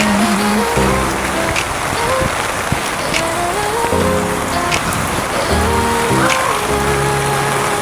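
Heavy rain hissing steadily on a surface, loud and constant, with a low engine hum rising and falling underneath.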